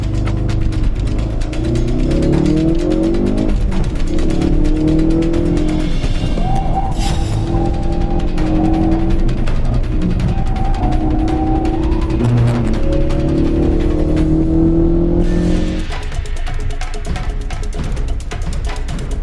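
A Ford Focus RS is driven hard around a race track on a fast lap, its engine loud and close as revs climb and drop through gear changes, with no talk.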